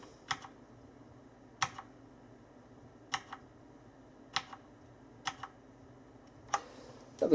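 Individual keystrokes on a Tesoro Colada mechanical keyboard, sharp clicky presses spaced about a second apart, close and crisp over a quiet background with no talking.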